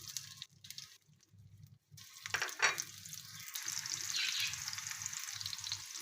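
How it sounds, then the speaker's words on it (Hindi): Chopped onions sizzle and fry in about three tablespoons of oil on a flat tawa griddle for a Pakistani-style egg omelette, a steady crackling hiss with brief gaps and no talking. "प्याज को हम सौते कर लेंगे"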